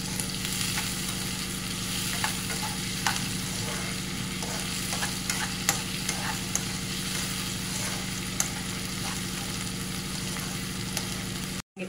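Onions sautéing with a little salt in a pan for a Tamil keema mutton gravy, a steady close sizzle with soft stirring scrapes and a low mechanical hum beneath, no talking.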